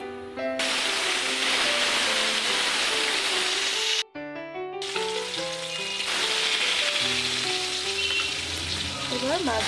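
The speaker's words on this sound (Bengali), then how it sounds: "এবার মাছগুলো হালকা লাল করে ভেজে নিলাম।" Rui fish pieces fry in hot oil in a wok, giving a strong, steady sizzle that runs throughout beneath a layer of background music.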